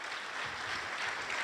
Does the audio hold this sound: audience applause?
yes